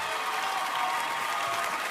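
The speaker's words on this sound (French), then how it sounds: "On peut l'applaudir." A TV studio audience on a singing talent show claps steadily, a dense, even burst of applause heard alone without talk.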